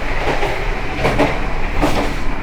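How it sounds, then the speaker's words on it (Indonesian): Noisy coupling between carriages of an Indonesian passenger train, with a loud continuous rumble and rattling and periodic metallic clanks and thumps, heard close up and alone. "teman-teman bisa dengar sendiri karena untuk sambungan di kereta itu berisik ya teman-teman"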